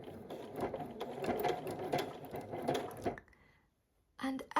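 A sewing machine stitches a curve on a rag quilt in a rapid, loud mechanical whirr that runs steadily, cuts off into near silence, then starts up again briefly.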